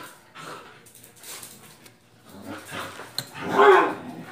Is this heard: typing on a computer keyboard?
no